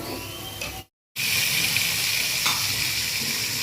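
Food dry-frying in a pan on a home gas stove, a steady bright sizzle with a brief cut to silence near the start, then continuous close hissing crackle with no voices.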